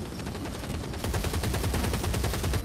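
Rapid gunfire in a Fatshark video game, a steady stream of close, loud shots with a sharp burst of faster automatic fire partway through, no voices.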